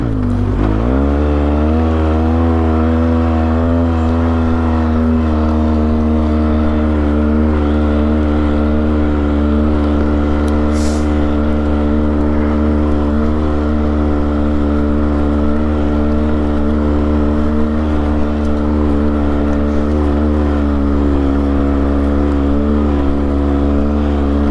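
A Polaris Sportsman 700 ATV engine running steadily while riding across open desert at Lucerne, a loud, close, continuous drone with a slight wavering pitch and no talking.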